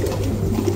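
Pigeons kept for sale coo continuously through a short, steady stretch, with low murmuring calls close by and no voices.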